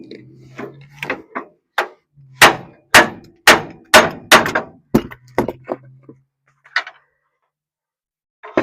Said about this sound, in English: A little beating and banging.